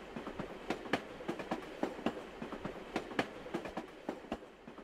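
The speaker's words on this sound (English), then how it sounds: "This is kind of like a train, I think, actually." Train in the Roblox-style game ERLC, heard as a rhythmic clickety-clack of wheels over rail joints, moderately distant and steady with no talk.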